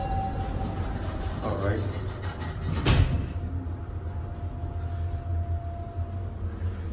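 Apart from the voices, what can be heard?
SEPTA southbound express subway train at station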